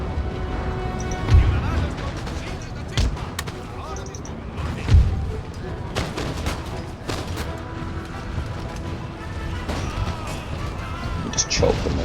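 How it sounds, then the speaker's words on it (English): Cannon and musket fire from the Empire: Total War video game, with scattered booms, crashes and crackling volleys over a continuous battle din, while someone speaks over it. "the enemy are still firing cannons at us, so that's a concern."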